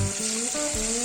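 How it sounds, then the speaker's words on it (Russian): Shashlik meat fries in a pan on a stove, giving a steady, close sizzle with a soft background hiss and no talking. "мы будем жарить шашлык просто на сковородке."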